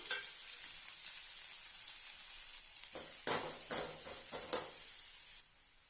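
Steady sizzling of onion and ginger sautéing in a pan, with a few louder bursts of stirring partway through; no voices.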